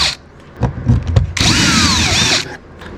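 A power driver spins out T30 Torx screws behind a speaker grille on an Audi RS3/S3/A3 8V interior, with a short burst and then a sustained, loud whirring run of about a second, close up, accompanied by clicks and handling noise.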